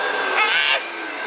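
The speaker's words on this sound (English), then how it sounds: "Let me see your vacuum." A vacuum cleaner runs with a steady, close, whining hum that swells briefly louder for a moment before settling back to a constant drone.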